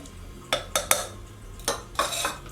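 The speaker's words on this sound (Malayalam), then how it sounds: "ഞാൻ ഫസ്റ്റ് ഇതിലേക്ക് പരിപ്പ് ഇട്ട് കൊടുക്കാം" Several sharp clattering bursts of dry lentils pouring into a metal pressure cooker, five or six quick rattling pours close by.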